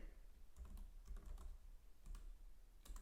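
Quick bursts of keystrokes clatter on a computer keyboard in a quiet room, with several short runs of clicks separated by brief pauses and no voices.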